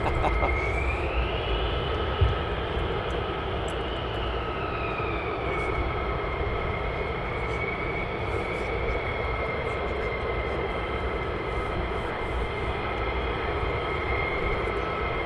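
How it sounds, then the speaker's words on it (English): F-15 fighter jets flying at RAF Lakenheath, a sustained roaring jet drone with a slowly shifting whine that holds steady and loud throughout, with no talk over it. "Can you zoom into the F-15s, please?"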